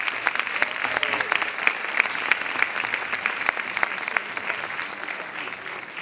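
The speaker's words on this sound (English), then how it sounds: "Let me get them a hand clap, please." Audience applause for a theatre cast at a stage production, a steady dense wash of many hands clapping throughout, loud and sustained with scattered sharper claps and some crowd noise beneath.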